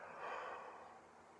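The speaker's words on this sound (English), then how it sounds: "As I yawn." A single soft, drawn-out breathy exhale, close and quiet, with no words spoken.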